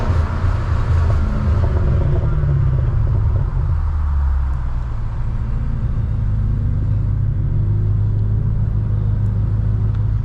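BMW M6 with an aftermarket exhaust downshifting, a loud, deep, continuous engine rumble with shifting pitch as the revs rise and fall, heard close from inside the car.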